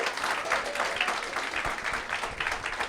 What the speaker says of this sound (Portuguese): pode aplaudir ao Senhor mais forte.